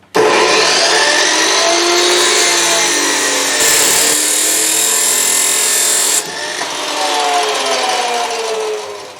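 A power tool cuts through metal legs meant for a fire pit grate, a loud, steady grinding whine that runs unbroken for several seconds, dips briefly, then resumes before easing off near the end.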